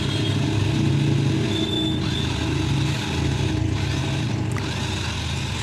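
A heavy homemade tractor engine labors steadily pulling a trolley, a continuous low chugging drone with slight shifts in pitch, close by and loud throughout.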